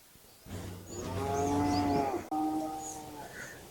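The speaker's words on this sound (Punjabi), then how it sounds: "ਉਹ ਗਾਂ ਤਾਂ ਮੈਨੂੰ ਛੋਡੇ ਵਾਲੀ ਲੱਗਦੀ ਹੈ ਯਾਰ" A cow moos in a long, deep, drawn-out call that swells and then holds. It is close and loud, with a brief break near the middle and no voices over it.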